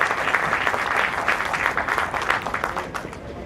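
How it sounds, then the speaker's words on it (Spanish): Conference audience in Peru applauding a panelist being welcomed to the stage, a dense steady clapping that stays loud and even before thinning slightly at the end, with no talk over it. "Palmas para el magíster Germán Alarco Tosoni."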